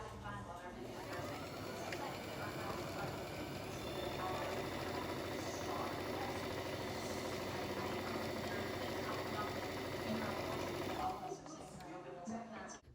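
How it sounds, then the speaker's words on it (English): A sewing machine double-stitches a fabric face mask in a steady, continuous whirring run that stops near the end, heard up close. "We're going to double stitch because it's going to leave an opening."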